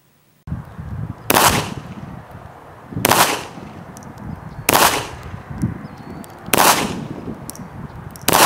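Pistol shots from a Remington RM380, five loud sharp reports spaced roughly every second and a half, each followed by a brief ringing decay over low outdoor background noise.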